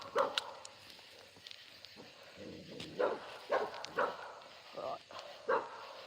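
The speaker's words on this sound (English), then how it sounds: "Daisy's over there barking at the horse." A dog barks in short, scattered bursts at a distance, with faint rustling and quiet background noise between barks.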